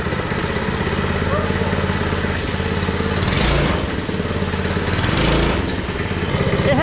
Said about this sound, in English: It has a little bit of sound to it with the Predator 224 exhaust.